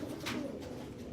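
Pigeons coo softly in a racing pigeon loft, a faint low cooing under a steady airy background.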